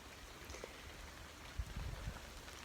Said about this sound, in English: Let's just find a spot to shelter and listen to the rain sounds.